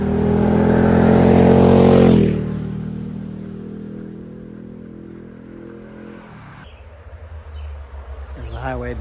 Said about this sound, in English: There's the highway behind me as I disappear back into the woods